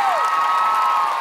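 Studio audience on a Vietnamese television dance competition cheering and applauding, a dense, steady crowd roar sustained through a short burst, with a bright tonal whistle-like sweep near the start.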